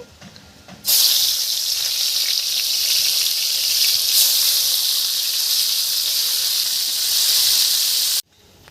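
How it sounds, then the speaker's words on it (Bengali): Jiol fish dropped into hot oil in a pan, a loud steady sizzle that bursts in abruptly, holds at full strength for about seven seconds, then cuts off sharply. "কড়া গরম হয়ে গেছে, তেল দিয়ে দিলাম। মাছটা এখন দিয়ে দিচ্ছি।"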